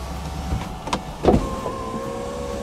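Electric folding roof of a 2008 MINI Cooper S Convertible closing, a steady motor whine with a couple of soft mechanical clunks partway through, close by and otherwise quiet.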